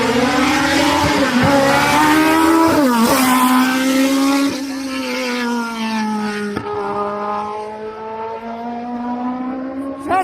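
A race car climbs a hill-climb course on the Gorjance road, its engine loud and close with a sustained high rev, several sharp gear changes and a falling pitch as it pulls away, running alone without talk.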